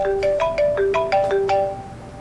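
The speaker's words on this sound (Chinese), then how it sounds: "阿姨，你稍等，我接个工作电话。" A mobile phone plays a melodic ringtone for an incoming work call, a bright repeating run of chiming notes that sounds alone and close, then fades out.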